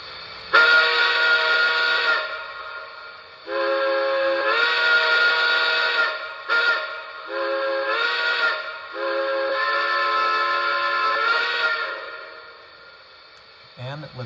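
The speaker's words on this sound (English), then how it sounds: "So first, let's hear the whistle." A Lionel Legacy Heavy Mikado model steam locomotive sounds its steam whistle in several long, loud, harmonic blasts separated by short pauses, close and alone.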